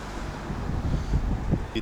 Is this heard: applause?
no